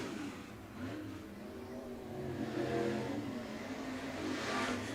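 Topless Modified race cars thunder around the Coles County Speedway dirt oval, a distant, continuous roar of engines swelling and fading as the pack passes, with crowd ambience underneath.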